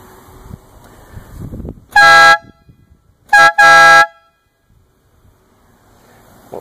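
A DIY compressor-fed air horn fitted to a scooter blasts three times, one longer honk followed by a short toot and another long blare, loud and close against a quiet background.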